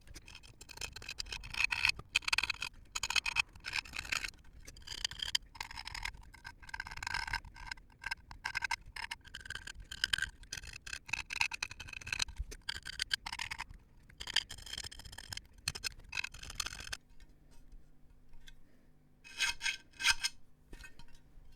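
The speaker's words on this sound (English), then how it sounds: "So I'm just going to use this file" A hand file scrapes out socket holes on a build: continuous close rasping strokes in a quick back-and-forth rhythm that stop near the end, leaving faint handling noise.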